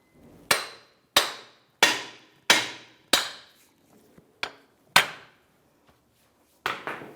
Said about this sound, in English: We're going to hammer this through and then pull that axle out.